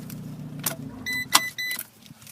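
A 2013 Fiat 500 Abarth is switched off: a brief key-and-ignition sequence with short electrical whirs and clicks, then quiet, close and fairly soft, with no talking.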